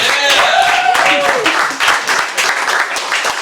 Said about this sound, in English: give a big round of applause for Chisato